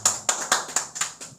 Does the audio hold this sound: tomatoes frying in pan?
no